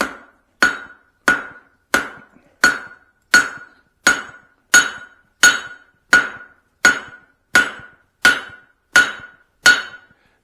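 Steady, evenly spaced hammer blows ring out on steel over an anvil horn while a Swedish-style cross peen is forged, about fifteen sharp metallic strikes with bright ringing decay, close and loud with no talking.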